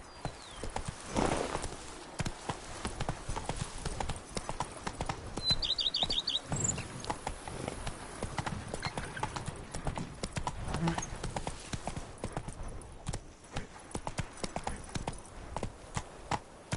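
Roach the horse gallops in The Witcher 3: Blood and Wine, hooves drumming in a steady, dense clip-clop across the whole stretch, with birdsong around and occasional voices over the hoofbeats.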